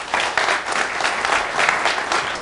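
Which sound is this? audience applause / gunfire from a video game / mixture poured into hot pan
audience applause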